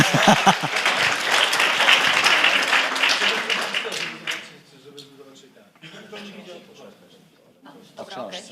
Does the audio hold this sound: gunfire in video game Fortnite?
no